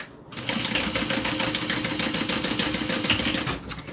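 A sewing machine runs steadily while top stitching gray thread onto yellow fabric, a fast, even mechanical chatter that holds close and loud for several seconds before stopping.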